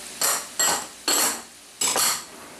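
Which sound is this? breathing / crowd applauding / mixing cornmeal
mixing cornmeal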